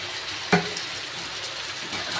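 A pan of food being stir-fried with a splash of water gives a steady watery sizzle, with one sharp clink of a utensil near the start.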